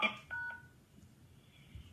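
Touch-tone phone keypad dialing: a few short dual-tone beeps in quick succession near the start, then quiet line hiss.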